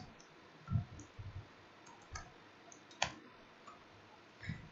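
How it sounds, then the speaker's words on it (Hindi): A computer mouse clicks a handful of times at irregular intervals, each click short, sharp and close-up against a quiet room background. "टाइगर पे क्लिक किया और इमेज पे क्लिक कर दिया मैंने।"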